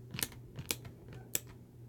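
A few sharp, light clicks, irregularly spaced and close, quiet overall.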